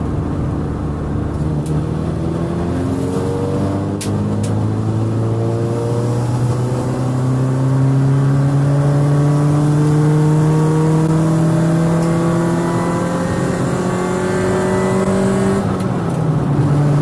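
A race car set up for track use revs its engine steadily and loudly, with rising and falling harmonic tones as it accelerates through the revs, close and continuous with no voices.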